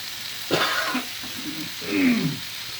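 Ground meat frying in a pan for stuffed green bell peppers, with soft sizzling and a couple of scraping stirs as it is folded over, close and moderately loud with no talking.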